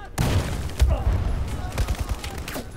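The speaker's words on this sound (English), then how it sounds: "There's a grenade thrown down on us." Battlefield 4 campaign combat: a dense spread of gunfire and heavy thumps, with an explosion-like boom near the start, continuing loudly throughout the clip.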